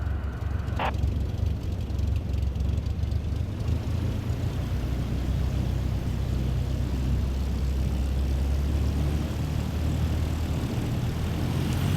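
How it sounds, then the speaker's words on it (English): An aircraft in Microsoft Flight Simulator 2024 throttles up to taxi, giving a steady, loud engine drone with a broad rushing roar, unbroken throughout, after a brief click near the start. "Now, gently increase throttle to get the aircraft moving."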